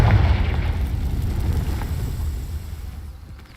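A blasting spell slams into rocks in a video game, giving one loud, deep boom that rolls into a long rumbling decay over a few seconds.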